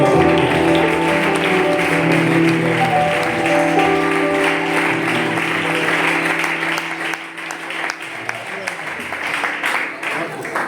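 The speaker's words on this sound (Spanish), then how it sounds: "fuerte aplauso al Señor." A church congregation claps in sustained applause praising the Lord, loud and dense, with musical tones held underneath and voices mixed in before the clapping thins toward the end.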